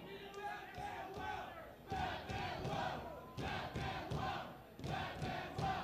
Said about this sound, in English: This crowd coming alive for Batman